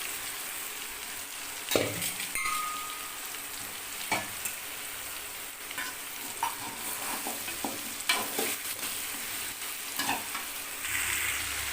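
Tomatoes sauté in a pan with a constant crackling sizzle, broken by occasional sharp scrapes and clacks of a spatula stirring them at irregular intervals, close and fairly loud.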